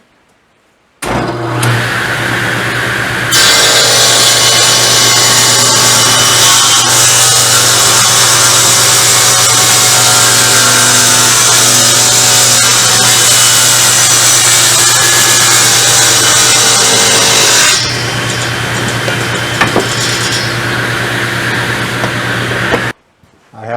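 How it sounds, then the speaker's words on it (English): A power saw rips a maple board into strips for a banjo neck, a loud sustained whining cut lasting most of the stretch, with the motor spinning up before and running down after. "I'm going to cut the maple board into 3 strips"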